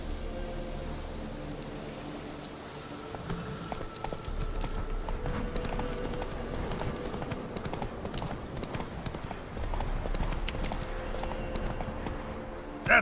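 Roach the horse's hooves clip-clop steadily in The Witcher 3, a continuous rhythmic trot of close, clear hoofbeats over a low ambient bed, with no talking.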